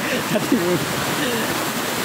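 Steady rushing water of a flooded river fills the clip, broad and constant, with faint voices murmuring underneath.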